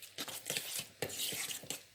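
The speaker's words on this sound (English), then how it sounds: "I have to stir, stir, stir, and I'm making a cheese paste." A utensil stirs a thick pecorino-style cheese paste for cacio e pepe in a bowl, quiet rhythmic scraping strokes repeating about every quarter second, close and faint, with no talking.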